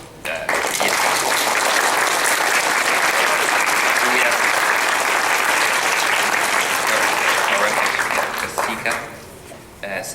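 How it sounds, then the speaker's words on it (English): Loud, steady applause from a large convention audience fills nearly ten seconds, then tapers off near the end. "so I'd like a round of applause for our"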